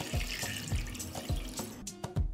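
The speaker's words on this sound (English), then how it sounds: "I pour water up to the height of the lid." Water is poured into a pan for pasteurizing jars, which stand on a kitchen towel at the bottom. It makes a steady, close splashing pour with small repeated surges and a few louder gushes near the end.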